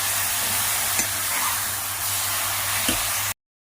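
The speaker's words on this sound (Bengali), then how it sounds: "এবারে এটা ভালো করে আমি পেঁয়াজের সাথে ফ্রাই করে নেব" Chicken fries with onions in a pan, giving a close, steady hissing sizzle broken by a couple of soft stirring knocks. The sound then cuts off abruptly.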